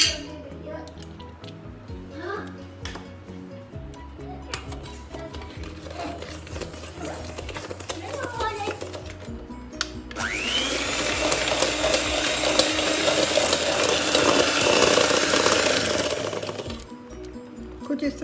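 Cake batter for a dates cake being mixed with vanilla essence, with clinks and wet squishing sounds early on, then a long, steady electric mixer whir for several seconds before it stops near the end, up close.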